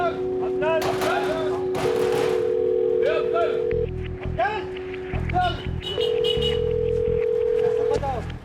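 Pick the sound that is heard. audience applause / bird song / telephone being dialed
telephone being dialed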